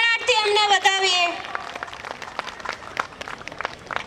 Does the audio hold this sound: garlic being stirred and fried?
no